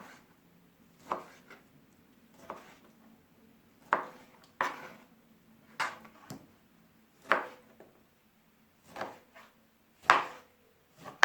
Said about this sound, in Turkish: Daha sonra tekrar doğrayalım.